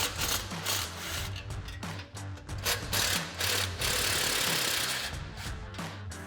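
An impact wrench with a 14mm socket on a 2024 Toyota Tacoma removes exhaust spring bolts ahead of the main muffler, giving close, loud bursts of rapid hammering with short pauses between them and no talk.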